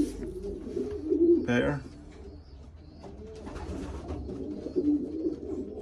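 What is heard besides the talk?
young racing pigeons cooing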